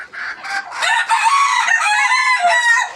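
A pet rooster crows once, loud and close, in a full drawn-out cock-a-doodle-doo lasting about three seconds.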